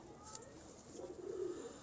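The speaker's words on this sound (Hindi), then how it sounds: "यार बहुत अला कबूतर, उधर और कबूतर है" Pigeons in a fancier's loft giving soft, low cooing calls, faint and a little distant over a quiet background.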